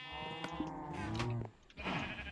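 Minecraft sheep bleating, several wavering, nasal baa calls in quick succession, fairly close and clear with no talk.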